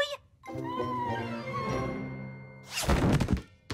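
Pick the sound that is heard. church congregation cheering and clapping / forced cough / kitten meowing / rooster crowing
kitten meowing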